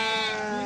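A single sheep at a livestock market lets out a brief, close, sustained bleat, loud and clear against the faint market background.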